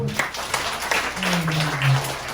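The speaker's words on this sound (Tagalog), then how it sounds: "Palakpak po." A church congregation at a sermon in Sindangan, Philippines, claps in a brief burst of applause, with a voice sounding over the clapping partway through.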